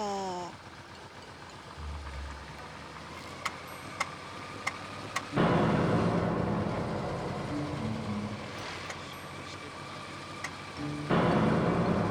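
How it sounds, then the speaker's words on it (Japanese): A Yamaha Vmax 1200 motorcycle engine with a spark plug misfire drones, with faint ticking at first, then rises to a louder, rougher roar as the load comes on, easing back before surging again. "ここで再びエンジンに負荷がかかります。"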